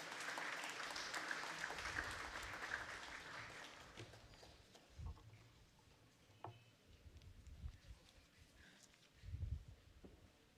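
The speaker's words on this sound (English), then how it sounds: "Can we welcome her with a round of applause, please?" An audience at a secondary school graduation ceremony applauds, a fairly quiet, dense patter of clapping that fades after a few seconds, followed by faint scattered room noise.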